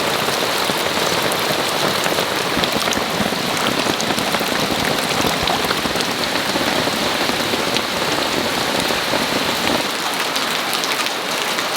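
Heavy tropical downpour on a farm in Panama, a dense, steady roar of rain hammering surfaces at close range with no break, loud and continuous throughout.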